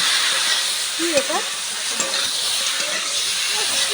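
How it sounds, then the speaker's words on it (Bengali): Meat seasoned with chilli powder and salt fries in a wok, giving a loud, steady sizzle broken by a few scraping stirs, and a faint voice can be heard in the background. "কড়াই তুলে দিয়ে নেড়ে নিতে হবে তাই নেড়ে নিলাম"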